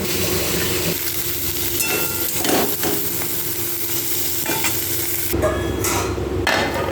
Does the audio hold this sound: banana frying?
yes